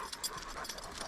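A dog pants in quick, breathy bursts at close range, with faint whimper-like sounds mixed in over a short stretch.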